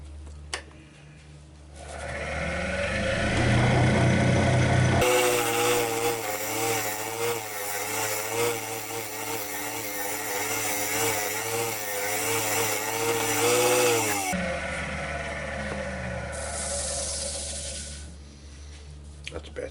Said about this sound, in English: And for that I'm just going to use my round nose scraper.